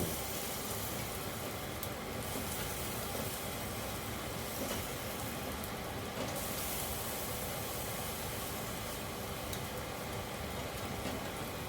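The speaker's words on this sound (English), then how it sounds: "Sorry about the noise, it's the vent." Steady, faint whooshing fan noise runs evenly throughout, a constant broadband hum with no voices or pauses.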